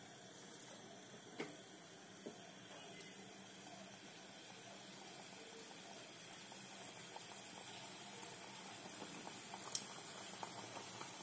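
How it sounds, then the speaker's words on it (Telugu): Pieces of dough for a spicy snack bubble softly in hot oil, a faint, steady frothy hiss with scattered small crackles and pops. "ఇవి బాగా గోల్డెన్ కలర్ వచ్చేదాకా వీటిని ఫ్రై చేసుకోవాలి"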